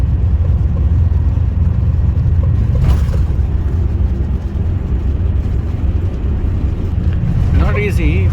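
Riding a bus from Johor Bahru to Senai Airport in Malaysia: a continuous loud, low interior engine and road rumble, steady throughout, with a brief whoosh midway and a voice near the end.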